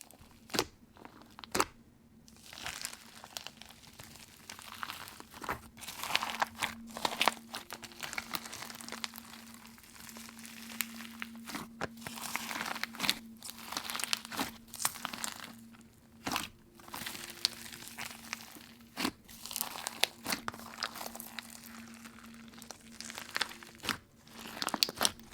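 Textured slime with a marshmallow-like feel is squished and crunched by hand, producing dense, steady crackling and crinkling with sharper pops scattered throughout, close and fairly quiet, with no talking.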